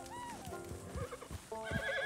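A horse whinnies in Red Dead Redemption 2, a rising then falling call near the start, followed by further snorts and neighs over steady game ambience, ending in a brighter tonal phrase.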